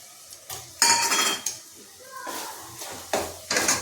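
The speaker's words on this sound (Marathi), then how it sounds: "आता याच्यामध्ये आपण हे वाटलेलं वाटण टाकायचं" Thick ground masala paste going into a cooking pot for a fanshi (jackfruit) vegetable dish, with clattering pot and spoon knocks in several bursts and scraping between them, close by and fairly loud.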